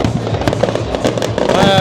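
Fireworks burst in a rapid crackling barrage at a night display for car enthusiasts, with a helicopter flying through the show; the popping is dense and loud throughout, while voices murmur underneath.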